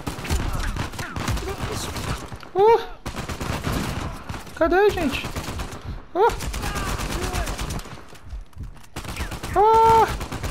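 Rapid bursts of gunfire in Uncharted 4: A Thief's End on PlayStation 4 crackle repeatedly, mixed with excited talking and shouting between and over the shots.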